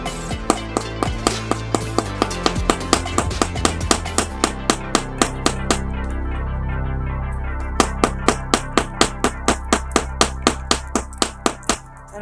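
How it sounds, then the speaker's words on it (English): A hammer strikes repeatedly while decorations are hung, a long series of sharp, fairly loud knocks in a steady rhythm, speeding up in bursts and pausing briefly midway before resuming. "I found this hammer on the road."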